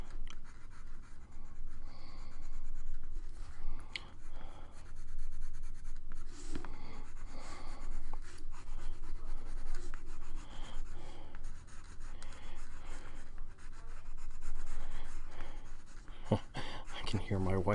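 Colored pencil scratches and rubs steadily across paper in close, continuous strokes, with soft breathing and small taps at the end.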